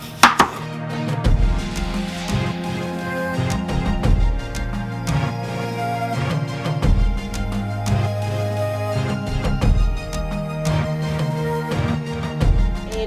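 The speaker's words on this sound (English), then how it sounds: "I am going to slice off my lovely cucumber." A knife slices through a cucumber on a cutting board in a steady series of close, crisp chops and taps, repeating unevenly over several seconds with no talking.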